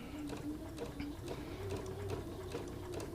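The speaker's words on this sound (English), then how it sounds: "I'm sewing with my Bernina 790, which just got back from the shop." A Bernina 790 sewing machine, fresh from servicing, runs a quarter-inch seam at a 2.0 stitch length with a 37D foot, giving a steady, even whirring hum of continuous stitching close by.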